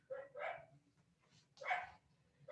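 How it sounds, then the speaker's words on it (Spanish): A dog barks a few times in the distance, faint sharp yaps spaced apart against quiet indoor background. "Ese perro nunca se va a callar."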